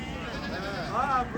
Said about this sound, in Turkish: Bunun içində sütlü keçin var.